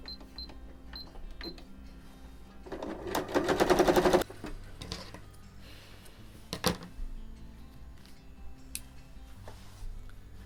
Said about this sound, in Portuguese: Agora eu vou trazer esse tecido pro direito e vou pespontar em volta do zíper.